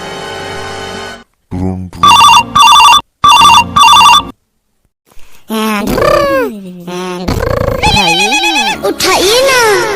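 A telephone rings in a Chhattisgarhi cartoon comedy, with several short electronic ringing bursts in a row. Animated voices talk and exclaim loudly before and after the rings.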